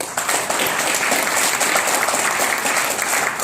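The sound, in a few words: audience applause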